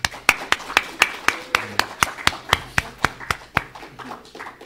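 A church congregation claps in unison during a Sunday sermon, a sharp rhythmic series of about twenty evenly spaced claps at a brisk steady tempo, fairly close and distinct.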